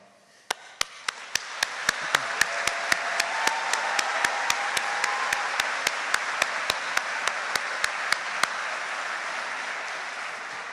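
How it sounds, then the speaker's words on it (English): Graduation ceremony audience at Bath Spa University's School of Education applauding together, a dense, steady wash of many hands clapping that swells in the first seconds and holds loud for the whole stretch, with sharp louder claps scattered through it. "you are going to be doing a lot of clapping today, so that was a wonderful warm-up for you"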